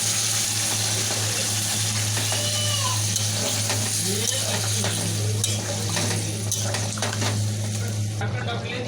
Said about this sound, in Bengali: দিয়ে দেবো একটু উষ্ণ গরম জল।